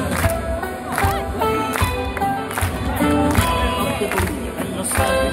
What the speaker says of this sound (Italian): Per tutti loro vi chiediamo di battere le mani